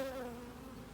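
Honeybees hum inside an open hive during an inspection, a faint, brief, steady buzzing drone with a slightly wavering pitch.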